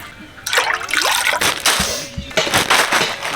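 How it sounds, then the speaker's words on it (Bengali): Water poured from close by into a cooking pot for boiling chowmein, a loud continuous splashing gush that wavers as the stream shifts. "চাউমিন সেদ্ধ করবো, জল দিয়ে দিচ্ছি।"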